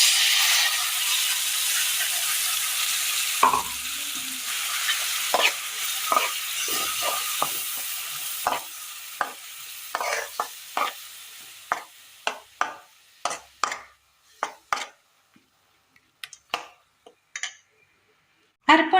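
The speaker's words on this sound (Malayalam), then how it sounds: "ഇനി ഇതിലേക്ക് നമ്മൾ അരച്ചു കൊണ്ടുവന്ന തേങ്ങ ചേർത്ത് കൊടുക്കാം." Ground coconut paste hits a hot pan of Kerala curry with turmeric, giving a loud steady sizzle and hiss that fades as a spoon stirs, scraping and knocking in sharp irregular taps that grow sparse.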